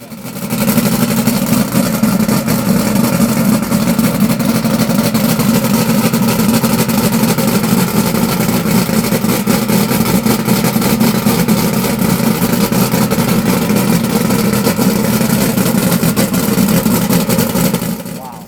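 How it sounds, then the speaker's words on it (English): A Skater racing powerboat engine roars at close range, holding a loud, throaty rumble at steady high revs for a long stretch before cutting off. "getting to hear these engines revved up"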